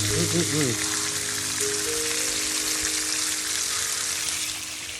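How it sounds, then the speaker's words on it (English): Steady, loud sizzling of meat browning in a hot pan, a dense crackling hiss throughout, with a brief faint tonal sound near the start. "Hear that though? I love that sizzle."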